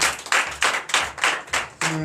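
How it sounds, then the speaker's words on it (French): Worshippers at a Sunday church service in Comè, Benin, clap together in loud, regular bursts, roughly two or three claps per second. A sustained voiced tone creeps in toward the end. "Donnez l'acclamation à notre Seigneur Jésus."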